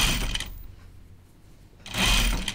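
Sewing machine with a walking foot stitching jacket fabric, running in two short bursts at the start and end with a quiet gap between, close and fairly loud.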